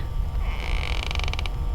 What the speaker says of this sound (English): while she was praying in a sitting position, she heard a creak